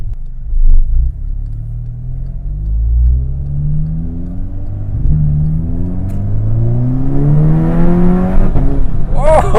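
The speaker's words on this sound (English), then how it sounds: "The transmission is downshifting really nicely." APR Stage 3 GTI at about 350 wheel horsepower accelerating hard, engine note climbing repeatedly through the revs with downshift blips, loud and close inside the cabin with a steady low rumble underneath.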